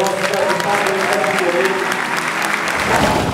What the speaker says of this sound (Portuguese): E aqui eu peço uma salva de palmas ao nosso deputado.